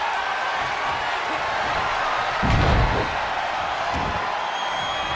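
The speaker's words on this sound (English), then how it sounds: "The sound of this crowd is deafening, and he's asking for more." Wrestling arena crowd cheering and roaring in a steady, dense wall of noise, swelling briefly louder midway with a thud-like burst, no voices standing out.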